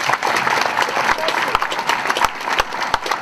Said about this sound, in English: this applause is your applause